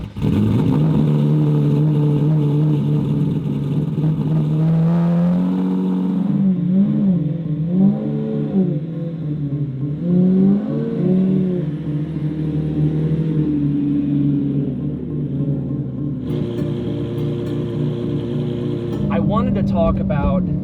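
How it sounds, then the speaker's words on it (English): A Lamborghini Murcielago V12 supercar pulls out of a garage, its engine a loud, close, deep rumble with rising and falling revs and a sharper rev burst near the end, with a person talking over it. "I want to show you guys the last drive in the car."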